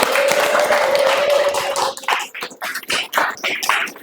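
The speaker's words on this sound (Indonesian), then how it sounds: "Tepuk tangan." Audience clapping during a law lecture, a full burst at first that thins into scattered individual claps toward the end.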